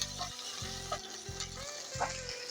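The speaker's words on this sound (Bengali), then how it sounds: "পনেরো কোয়া মতন রসুন নিলেই হবে সেটাও দিয়ে দিলাম দিয়ে একটু লাল লাল করে ভেজে নিচ্ছি" About fifteen garlic cloves frying in oil until reddish, a steady close sizzle with faint crackles and a recurring low background hum, no talking.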